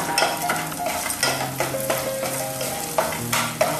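Chopped curry leaves hitting hot oil in a pan for rava idli, a busy, crackling sizzle up close with frequent stirring scrapes and light clinks of utensils.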